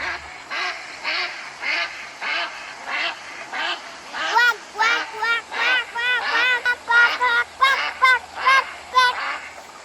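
Ducks at a bird garden give a long series of loud, close, rhythmic quacks and honking calls, with some overlapping, and geese may be among them.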